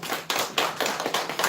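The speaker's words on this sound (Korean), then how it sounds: "박수하겠습니다." A church congregation claps together at a Sunday Advent service celebration, a steady run of crisp hand claps in a small room, close and alone without talk.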